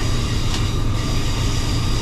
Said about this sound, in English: Loads of trains